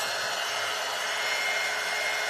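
A steady, close airflow hiss from a dryer blown over scrap wood for a bunny head leaner, unbroken and fairly loud throughout.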